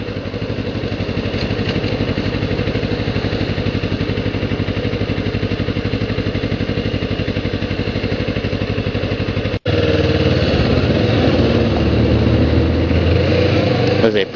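A Kawasaki Ninja 650R runs in sixth gear on a freeway at over 70 mph and around 5,000 RPM, with a loud, steady engine drone and heavy wind rush. After a brief cut the engine note grows louder and rougher.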